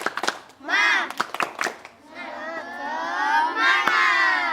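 Children in a physical education class clap and shout together, a few sharp claps opening before rising, excited group cheering and chanting voices swell loudly and carry on near the listener.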